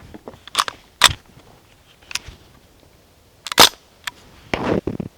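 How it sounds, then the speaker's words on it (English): A select-fire DPMS SBR BB gun fires in several quiet, sharp snaps, some single and some in quick bursts, separated by short pauses. "It's because it's actually a BB gun."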